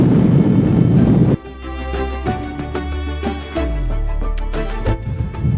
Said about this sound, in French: c'est chaud là avec le vent